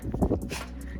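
Dogs in a camper van on a winter trip in Finland give a brief, close whimper lasting under a second.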